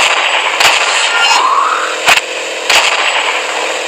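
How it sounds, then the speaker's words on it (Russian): Loud, sharp explosion blasts in the motorcycle combat racing game Death Moto 3, several bursts spaced apart over a steady roaring engine drone, with no talking. "Так, я взрываю все подряд."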